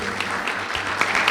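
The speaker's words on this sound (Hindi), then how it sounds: "जोरदार ताली प्रभु यीशु मसीह के नाम के लिए।" A church congregation applauds loudly during a Hindi Christian sermon, giving a steady, dense clatter of many hands clapping with no pause.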